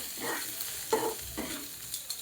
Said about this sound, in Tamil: வெங்காயம் சேர்த்து கொஞ்சம் நேரம் வதங்கட்டும்.